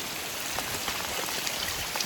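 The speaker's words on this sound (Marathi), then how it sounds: "पाऊस पडतो मोबाईलवर" Rain falls steadily on a phone held outdoors during a wet-season day of rice transplanting in a flooded field, a dense hiss of drops with faint sharper ticks of individual drops striking close by.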